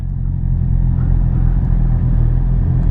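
A motorcycle being ridden on a road with its exhaust droning, a loud steady low-pitched engine rumble heard close up from the rider's position, with no talk.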